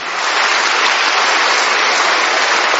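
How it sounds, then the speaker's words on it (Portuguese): A church congregation applauds during an evening service, a dense, steady wash of many hands clapping at once that holds loud and unbroken throughout. "Você pode aplaudir o Senhor nessa noite?"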